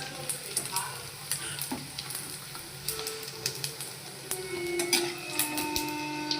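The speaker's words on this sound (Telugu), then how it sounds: "ఇలా కొంచెం గోల్డెన్ రంగులోకి వచ్చేటట్టు వేయించుకోవాలి" Leftover semiya (vermicelli) bondas deep fry in oil until golden, a busy bubbling sizzle with frequent light scraping and clicking stirs of a utensil.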